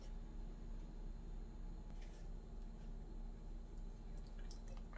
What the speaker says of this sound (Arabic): هلأ بنزلهم على المصفاية.